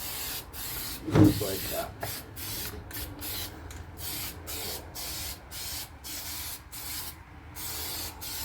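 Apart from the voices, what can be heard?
spraying light coat of sealer from spray can on F-150 trim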